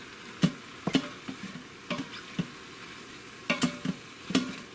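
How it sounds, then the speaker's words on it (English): A spoon scrapes and taps against the pot while stirring sloppy joe meat mixture in an Instant Pot, giving a series of soft, irregular clicks and scrapes over a faint background hiss. "Again, give it all a good stir."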